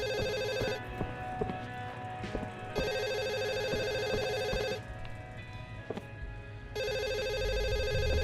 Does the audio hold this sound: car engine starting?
no